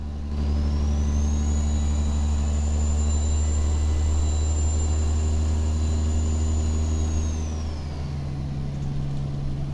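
A Peterbilt-style 389 truck engine driving in American Truck Simulator: a steady, loud low drone with a whining tone that sustains, then drops in pitch near the end as the engine settles.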